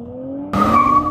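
A 2024 Nissan 400Z accelerates hard from about 30–40 km/h: a steady engine drone suddenly bursts into a loud, close surge with a tire-squeal-like whine riding on top.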